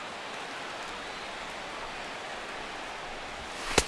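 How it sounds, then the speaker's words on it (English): Steady rain falls at a baseball game in the video game MLB The Show 16, an even hiss lasting throughout, with a short sharp knock near the end. "The rain, as we've mentioned, coming down fairly steadily here at game time."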